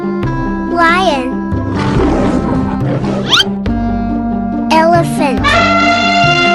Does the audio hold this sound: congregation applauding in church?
no